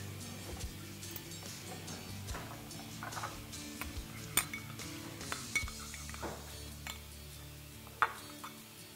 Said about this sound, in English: Now that we have all of our ingredients in, we're ready to mix.